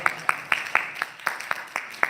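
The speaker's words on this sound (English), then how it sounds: "Give him a round of applause." Steady, evenly spaced hand claps from a small business seminar audience in San Diego, about nine sharp claps in a regular rhythm, moderately close with faint background murmur.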